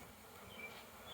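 Agitated honeybees buzzing at an urban farm beehive during a hive split, a steady, faint hum close by with no talk.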